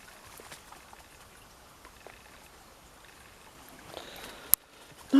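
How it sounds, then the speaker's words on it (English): Water trickles and flows softly outdoors in a faint, steady background, with a sharp click near the end. "And the sound of water in the background."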